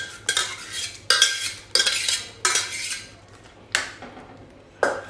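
Boiled eggplant being mixed into a spice masala for Kathiyawadi ringan no olo, with a metal spoon striking and scraping the pot in about six distinct loud clatters, each fading into a soft hiss, close and without talk.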